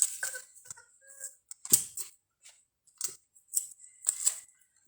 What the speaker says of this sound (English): Grab 2 pieces of tape off of there